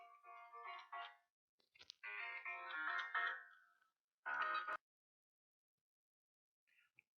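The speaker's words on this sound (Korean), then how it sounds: "네, 전화가 와갖고요." A phone ringtone plays in separate melodic bursts with short pauses between them, fairly clear with no speech, and a faint last trace near the end.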